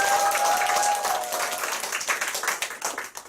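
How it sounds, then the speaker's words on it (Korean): Audience applause at a Nu Skin TOG Group meeting and awards ceremony, a dense wash of clapping that holds steady, then thins into looser, more scattered claps toward the end. "김용 사장님께 다시 한번 큰 박수 부탁드립니다."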